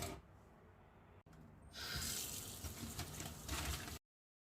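Tap water runs into a sink while fridge magnets are washed, a close splashing hiss that stops briefly, then resumes louder with clatter of items under the stream before cutting off.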